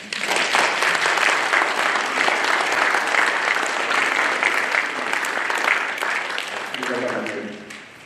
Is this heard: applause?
yes